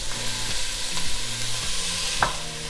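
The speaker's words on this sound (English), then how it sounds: "Let's drop these onions in there. Get our celery in there." Onions, celery and carrots frying in a soup pot, a steady close sizzle with a few stirring scrapes and a brief clink near the end.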